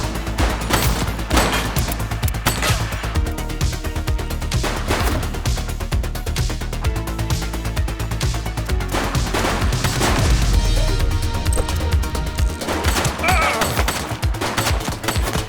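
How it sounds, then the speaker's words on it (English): Gunfire in The Precinct game, dense bursts of rapid shots and heavy reports crackling close and loud across the whole stretch, with a deep rumble swelling near the end. "She's shooting!"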